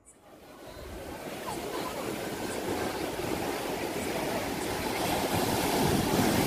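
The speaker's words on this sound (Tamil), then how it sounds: "இந்த கடல் அலையோட சத்தம் வந்து ரொம்ப பீஸ்ஃபுல்லாக இருந்துச்சு மைண்டுக்கு" Sea waves wash onto the temple shore at Thiruchendur, a steady broadband roar of surf that swells gradually and keeps building, close and continuous with no voices.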